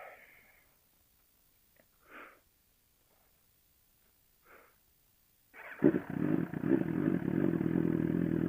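After a few quiet shuffles and small noises, a sport naked motorcycle engine suddenly roars up loud and close, holding a rough, high rev to the end.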